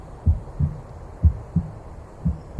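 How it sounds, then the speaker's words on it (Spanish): A heartbeat thumps out in low, muffled double beats that repeat roughly every two-thirds of a second. The beats grow somewhat stronger over a faint hum. "cuando el latido de un corazón va aproximándose."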